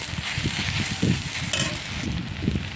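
Sago pulao is stirred in a pan, a low rumbling hiss broken by repeated soft scraping pushes of the spoon, close and fairly loud with no voices.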